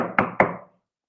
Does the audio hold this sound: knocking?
yes